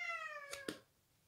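A house cat gives a drawn-out meow followed by a short chirp, fairly close and quiet against a hushed room.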